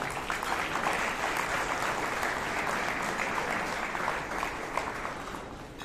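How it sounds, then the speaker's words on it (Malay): Audience at a company annual dinner celebration applauding all the staff together, a continuous, fairly distant wash of clapping from a large crowd that holds steady and tapers slightly near the end. "Bagi tepukan kat semua keluarga V5."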